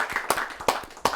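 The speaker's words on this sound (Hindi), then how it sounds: "आइए जोरदार तालियों से उन्हें बुलाते हैं।" Scattered claps from a live audience at a Hindi poetry and ghazal gathering, a few distinct sharp hand claps spaced irregularly rather than a full ovation, moderately loud and close.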